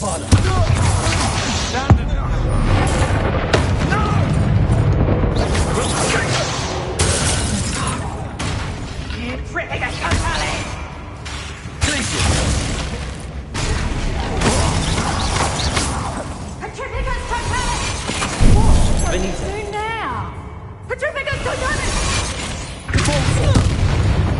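Booming fire-spell blasts and crashing magic effects from Hogwarts Legacy gameplay on PS5 hit repeatedly over a dense mix of game music and action sounds, with a voice speaking in places.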